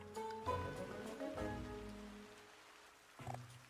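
Steady rain falling in an animated dinosaur film scene, a broad continuous wash with soft water noise and some tonal music or ambience layered over it, moderately loud throughout.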